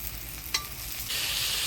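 Chopped tomato drops into a hot tempering of dried chili, whole cumin, bay leaf and chopped onion. A brief clack comes first, then a loud, sudden hiss of sizzling takes over and holds.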